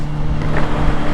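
Honda CBR 650R motorcycle fitted with a new full exhaust, a steady loud engine drone heard from the rider's position while cruising, continuous without talk.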